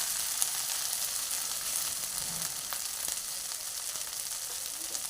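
Oil sizzles in a pan of amudi fish curry with winter vegetables once the water has cooked off, a continuous, fairly loud frying hiss that holds steady throughout, with no talking.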